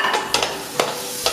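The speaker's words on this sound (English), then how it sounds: "We're gonna brown our carrots in butter just to give it some extra flavor and texture" Carrots browning in butter in a pan: a soft continuous sizzle broken by a few sharp stirring scrapes, close and without talk.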